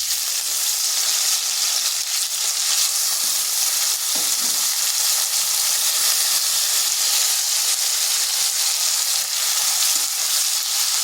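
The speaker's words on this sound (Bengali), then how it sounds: "এরপর চিংড়ি মাছগুলো ছেড়ে দিচ্ছি।" Prawns fry in hot oil in a kadai with a strong, continuous, close-up sizzle and spatter, with faint stirring knocks and no talk.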